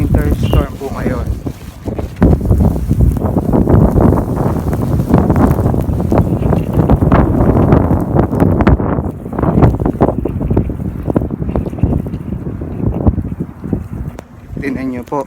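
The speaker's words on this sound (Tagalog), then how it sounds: "Lakas ng hangin." Strong gusting wind in a winter snowstorm roars and buffets the microphone continuously, loud and close, while a person talks over it.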